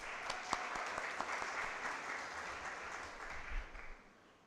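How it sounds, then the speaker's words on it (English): A crowd at a university orientation event gives a sustained, even round of applause that fills the room before tailing off at the end. "Round of applause for those who made the journey"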